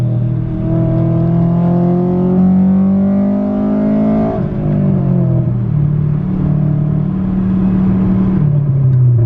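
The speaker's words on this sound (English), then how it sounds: "that is so cool when you hit VTEC" A 2000 Honda Civic Si (EM1) engine revs hard and climbs steadily, with the pitch sharpening as it hits VTEC. The tone drops at the shift and then pulls again, loud and close, with no talking.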